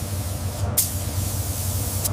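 A continuous close hiss of a spray gun painting a Porsche 911 GT3 RS panel in a factory booth, with a low compressor hum underneath, briefly cutting out and resuming, no voices.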